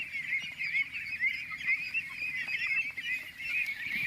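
A flock of domestic farm ducks heading to the water honk and quack continuously in overlapping, uneven calls, near and fairly loud, with no talk.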